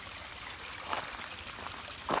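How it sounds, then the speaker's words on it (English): Rainwater from a tropical storm runs and trickles through a ditch and culvert, a soft, steady flowing stream with faint splashy gurgles, heard alone and fairly quiet. "Got a nice bit of water draining down there."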